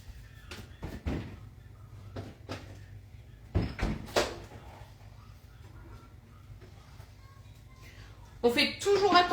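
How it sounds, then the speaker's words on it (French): A microwave door clicks and thumps open as a cooked dish is taken out in a home kitchen, with several sharp knocks and clatters, quiet pauses between them, and a burst of rustling at the end. "Je vais donc récupérer ce que j'ai mis dans mon micro-ondes."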